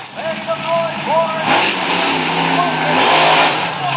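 The Equalizer monster truck's engine revs and roars at a night monster truck event in Manassas, Virginia, rising and surging loudly beneath an announcer's talk over the arena sound.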